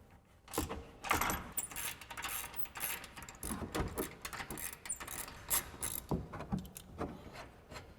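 A ratchet works on 21mm bolts of a stock upper control arm on a RAM 1500, giving quick bursts of clicking and metallic rattling with irregular pauses, close and fairly quiet.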